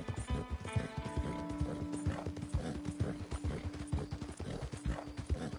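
Horse hooves clip-clop at a steady gallop across the 5.6 seconds in Red Dead Redemption 2, the thudding beats loud and close over a sustained musical drone, with a brief whinny.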